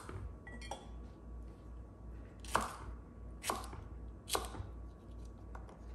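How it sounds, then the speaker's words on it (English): A knife cuts jalapeño peppers into chunks on a board during a big winter preservation cooking day, giving three or four sharp, separate chopping knocks spaced about a second apart against a low steady background hum. "The jalapenos, I just cut into chunks like this."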